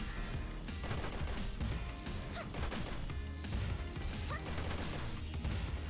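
Cannons fire in Shantae: Half-Genie Hero as dense, repeated booms and crashing impacts that stack over busy game music and effects, with no let-up.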